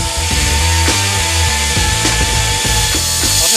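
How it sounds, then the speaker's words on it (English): Loud, close power-tool cutting through a weld on a gun barrel, a steady grinding drone with rhythmic strokes repeating about every half second, with no talk. "I need to make sure I cut the weld, not the barrel."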